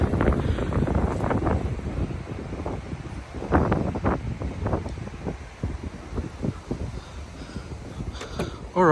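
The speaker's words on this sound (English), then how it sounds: "I apologise for the wind, it's a little bit windy today." Gusty wind buffets the microphone outdoors beside a parked 2017 Suzuki Ignis, a steady low rumble with stronger bursts throughout and a person talking over it.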